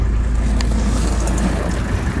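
A 1979 Mercedes 300SD turbo diesel idles steadily, a continuous low engine rumble close by with no talk over it.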